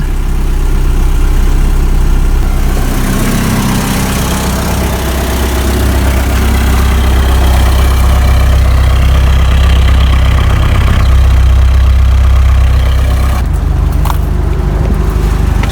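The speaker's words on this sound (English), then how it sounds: "I'll let it idle here for a little bit." A 1985 Toyota pickup engine idles after a fuel filter change and fresh gas, a loud, steady low rumble held close for the whole stretch.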